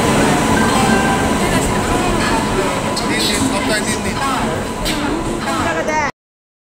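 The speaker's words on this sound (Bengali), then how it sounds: "আমাদের ট্রেন এসে গেছে।" A train arrives at NJP station. A loud, continuous rumble of rail noise fills the platform while people talk nearby over the din.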